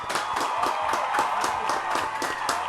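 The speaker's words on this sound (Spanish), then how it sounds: "Un aplauso." A church congregation applauds a welcomed elder, a steady burst of rhythmic clapping from many hands in a fairly close indoor room, sustained throughout without pause.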